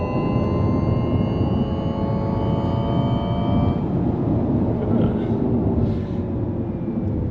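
Synthetic driving sound of a Nissan Ariya NISMO electric car, a loud sustained hum of layered tones that shifts in pitch as the car gets up to speed, with steady rumbling road noise underneath.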